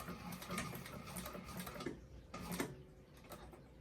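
A sewing machine stitches a bag, running in a steady close whirring burst, pausing briefly near the two-second mark, then starting again and continuing to the end.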